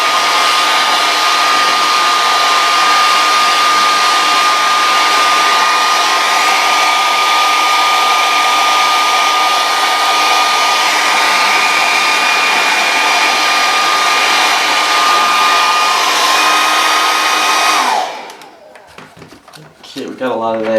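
A heat gun or hair-dryer-style blower roars steadily for about eighteen seconds while warming a chunk of oil-based modeling clay for mold making, loud and close, then cuts off, leaving faint handling sounds.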